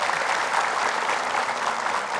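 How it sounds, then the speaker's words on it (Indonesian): Studio audience applauding during an Indonesian religious television show, a steady, dense wash of clapping that stays loud and even from start to finish, with no talking over it. "Tepuk tangan dulu deh, yuk."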